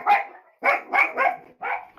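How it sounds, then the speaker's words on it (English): A dog barks about four or five times in quick succession. The barks are loud, close and in irregular bursts, with brief pauses between them and no talking. "It's a dog."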